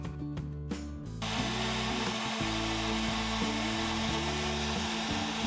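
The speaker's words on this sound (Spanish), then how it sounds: "Con la lijadora eléctrica o una normal lijamos para que todo quede bien lisito." An electric sander working on a wooden spice rack, starting up after a moment of scuffing and settling into a steady, droning whir that holds close and constant to the end.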